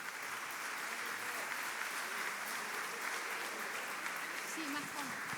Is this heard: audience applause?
yes